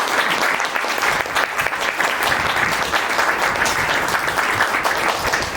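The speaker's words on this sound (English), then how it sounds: "So one more time, a big round of applause." A crowd at a museum exhibition opening claps steadily and loudly, a dense wash of applause that carries on throughout.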